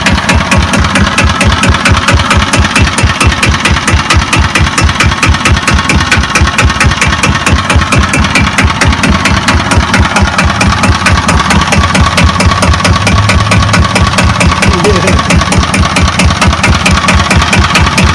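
Kubota EA-300-AR diesel engine at low idle, a loud, close, steady rapid chugging pulse that runs unchanged throughout, with no talk.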